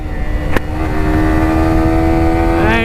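A Yamaha R15 motorcycle engine revs up toward its 12,000 RPM redline, a rising high-pitched whine that climbs smoothly and holds near the top, loud and close.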